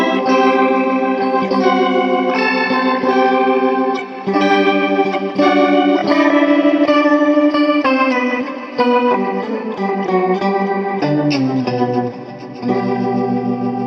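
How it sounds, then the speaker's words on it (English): Electric guitar chords through a Kemper Profiling Amp ring out with heavy reverb and echoing delay with feedback, notes smearing and repeating into a lush, washed sustain; no voices. "I'm turning up reverb, I'm turning up delays here and the feedback on the delay"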